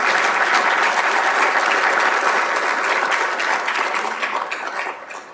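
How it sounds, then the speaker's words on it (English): A forum audience breaks into steady, dense applause that holds strong for several seconds and then tapers off toward the end. "A big round of applause for Director Razzo for her time."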